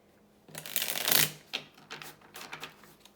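Tarot cards are shuffled in one quick riffle, followed by a few softer taps and slides of the deck, close and quiet with no voices.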